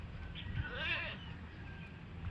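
A goat bleats once near the middle, a wavering nasal cry beside a roadside spot where rubbish is being burned, over a steady low outdoor rumble.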